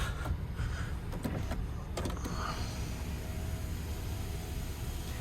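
The front power window of a new Toyota lowering, a steady, quiet electric motor whir inside the car with a few faint clicks early on.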